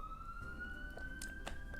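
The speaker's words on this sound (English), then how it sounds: "sorry, ambulance or police, trouble outside" A police or ambulance siren sounds outside as a steady rising wail, distant and faint over a constant low rumble of background noise.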